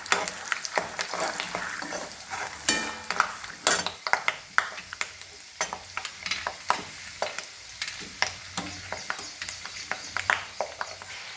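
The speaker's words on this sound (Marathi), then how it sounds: "शेंगदाणे टाकून घेऊया हलवून घ्यायचं आहे" Peanuts roasting in a pan for chivda are stirred with a utensil, giving a steady frying sizzle broken by frequent sharp scrapes and clinks against the pan in an irregular rhythm, close and fairly quiet.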